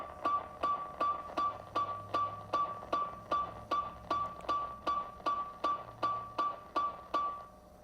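A chimeric Xenopus borealis frog sings a steady train of sharp, evenly spaced clicks, about two per second, each with a brief ringing tone, repeating without pause and heard alone.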